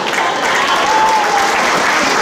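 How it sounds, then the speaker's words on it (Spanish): Audience applause for a couple on a Chilean-style family TV show, a dense, steady burst of clapping that stays loud and even throughout with no talk over it. "los aplausos para esta pareja"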